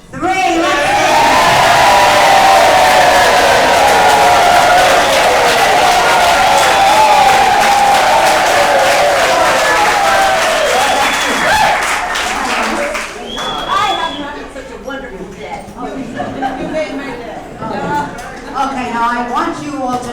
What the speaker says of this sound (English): you all are going to now give them a rousing, cheering, standing ovation